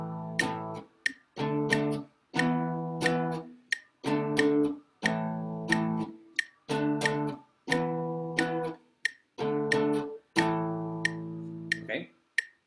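Repeated strummed guitar power chords in a steady pattern, about ten short blocks of sound separated by brief gaps, with faint metronome clicks keeping time between them.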